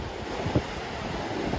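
Sea surf washing onto a gentle beach at Jaco, a steady low roar of waves with wind noise against the microphone and one brief louder surge, no voices.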